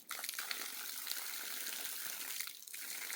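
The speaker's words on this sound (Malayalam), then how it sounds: "വെള്ളത്തിൻ്റെ ഫോഴ്സ് അനുസരിച്ച് വെള്ളം നിലത്തേക്ക് ചാടിക്കൊണ്ടിരിക്കുന്നു" Drinking water from a hillside pipe in a Malappuram forest settlement gushes onto the ground, a steady close broadband splashing rush that holds for about three seconds with a brief dip near the end.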